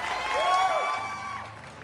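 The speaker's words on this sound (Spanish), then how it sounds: "le pido al público presente un fuerte aplauso para ellos" Audience applause for guests at the end of an interview on behaviourist theory, a steady wash of clapping from a crowd that holds for about two seconds with faint voices underneath.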